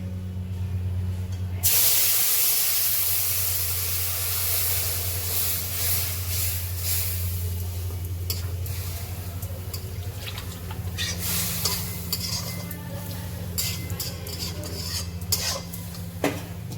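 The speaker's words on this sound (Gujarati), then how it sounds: "હવે આપણે દૂધ નાખી દઈશું." Milk poured into a pan of roasted vermicelli for a sweet dish: a loud rushing splash hits the hot pan, then settles into a steady bubbling hiss with occasional spoon clinks and stirring; no speech.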